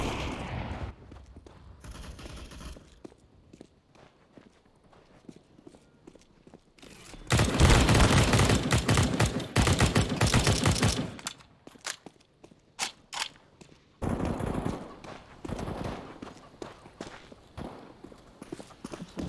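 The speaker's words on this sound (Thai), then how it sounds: "คือเรากำลังยิงเขาอยู่ค่ะ" Video game gunfire heard through a gaming headset, a dense crackling burst of rapid shots in the middle with a shorter volley later, between quieter stretches of footsteps and movement.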